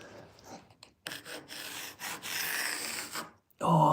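A pencil is sharpened to a point with a rasping, rubbing scrape in a woodworking shop, a few bursts of gritty friction separated by brief pauses.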